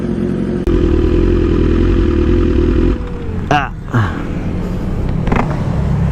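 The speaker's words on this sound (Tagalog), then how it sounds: "Gamit natin ang BMW." A BMW big bike motorcycle engine idles steadily with a loud, close mid-range drone, briefly revving and clattering midway, while someone talks over it.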